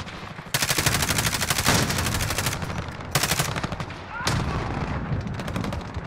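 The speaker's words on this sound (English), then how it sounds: "and I just keep shooting them" Rapid automatic gunfire from a Call of Duty match, loud and sustained in long bursts with brief gaps between volleys, close and dominant, with a faint voice underneath.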